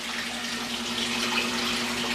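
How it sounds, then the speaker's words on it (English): Water rushes steadily from a Python hose into a 125-gallon aquarium during tank cleaning, a constant loud splashing hiss with no break and no voices. "I'm just filling up with the python."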